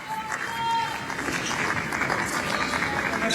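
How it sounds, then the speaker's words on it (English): Light, scattered clapping from a tennis crowd at the Australian Open women's singles final, a few thin rippling claps over general crowd murmur, fairly distant and subdued. "Just a couple of rippled applause"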